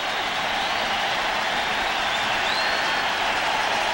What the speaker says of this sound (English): Crowd noise here in Atlanta.